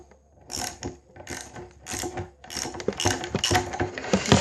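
Skateboard truck hardware being unscrewed by hand, giving quick rhythmic ratcheting clicks in short bursts that run together toward the end, close and clear with no talking.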